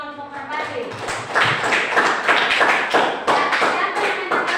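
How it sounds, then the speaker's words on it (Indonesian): Students in a classroom applaud a discussion group: several seconds of steady clapping from many hands, fairly close, with some talk and taps mixed in. "tepuk tangan untuk kelompok Merpati"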